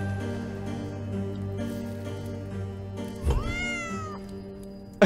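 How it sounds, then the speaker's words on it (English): A cat meows in the horror video game The Baby in Yellow, one rising and falling meow heard clearly over a steady hum of game ambience, followed by a brief sharp knock at the end. "Cat."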